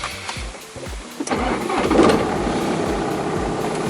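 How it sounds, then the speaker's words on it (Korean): Diesel engine of a 2016 BMW 420d Gran Coupe F36 with 120,000 km cranks and catches, then settles into a loud, steady clattering idle heard up close with no talking. "시동을 켜니 떨떨떨떨떨떨 거리는 디젤 엔진음이 날 반긴다"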